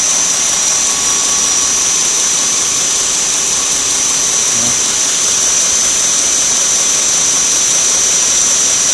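A grinder works on a part from a Harbor Freight #33 hand plane, a loud, continuous high-pitched whine that stays steady throughout with no pauses.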